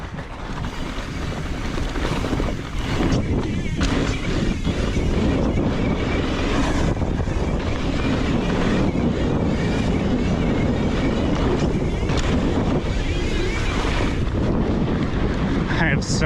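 A Santa Cruz Megatower mountain bike descending a testing trail, with steady, loud wind roar buffeting the microphone throughout and rough rolling noise underneath.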